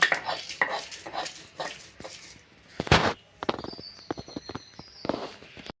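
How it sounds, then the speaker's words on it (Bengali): Boiled bottle gourd greens, salted during boiling, ground finely by hand, giving a run of rhythmic scraping and grinding strokes with a few sharp knocks and clinks, close and fairly quiet, with no talk. "শাকগুলোকে আমি মিহি করে বেটে নেব"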